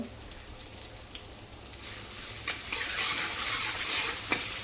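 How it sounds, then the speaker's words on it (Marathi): Chopped green chillies and garlic sauté in a pan with a soft, low sizzle and a few light taps, the frying hiss swelling louder toward the end. "त्यानंतर टाकूया जी हिरवी मिरची आपण कापून घेतली होती ती आणि हे सर्व व्यवस्थित परतून घेऊया"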